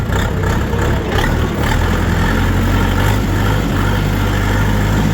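A Kentavr mini tractor's engine runs up close with a loud, steady low throbbing rumble and mechanical clatter, holding an even idle-like drone throughout.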